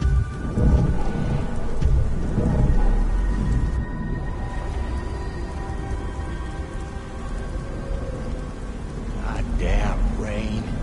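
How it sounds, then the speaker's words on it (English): Steady rain pours in the video game Beyond: Two Souls, with a low rumble of thunder rolling beneath the hiss and a faint tonal sound near the end, no voices. "Goddamn rain."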